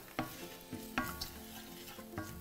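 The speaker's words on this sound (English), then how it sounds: "So give that a stir." A spoon stirs turmeric into a dish in a hot pan during a summer cooking demonstration, giving three soft scraping strokes over a steady background sizzle.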